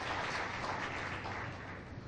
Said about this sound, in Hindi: तालियों से स्वागत करना चाहिए।